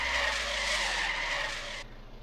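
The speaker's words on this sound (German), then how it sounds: "Ich bremse total ungern mit der Leertaste, weil es solche Geräusche macht." Harsh tire squeal of a car skidding under hard braking in the Trader Life Simulator video game, a loud continuous screech that cuts off abruptly near the end.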